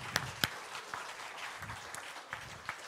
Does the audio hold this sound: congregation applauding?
yes